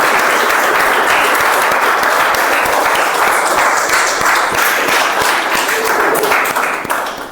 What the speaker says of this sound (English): Can we have another round of applause for our speaker